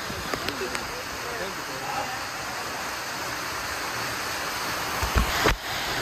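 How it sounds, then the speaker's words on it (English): A waterfall in Manuel Antonio National Park, Costa Rica, gives a loud, steady rushing roar that fills the whole stretch, with voices faintly present and a brief bump of handling noise near the end. "Waterfall number, what number is this,"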